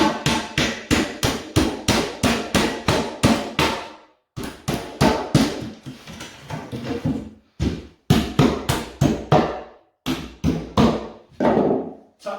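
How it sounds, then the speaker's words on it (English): A floor hammer taps nails flush into wooden floorboards, rapid sharp strikes in quick runs of roughly a dozen blows, pausing briefly between bursts, loud and close with no talk. "Tap them nails so that they're flush"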